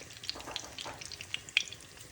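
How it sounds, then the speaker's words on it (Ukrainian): Food sizzles and crackles in a hot pan, with soft irregular pops and spatters, fairly quiet and close. "Це тепер смажиться."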